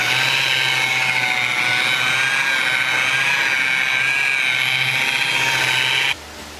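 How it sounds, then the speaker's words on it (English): A power buffer polishing a car's paint with a new fender fitted gives a loud, steady high whir that holds evenly for about six seconds, then drops suddenly to a quieter hum. "dad is buffing it again so we can get a deeper shine out of it."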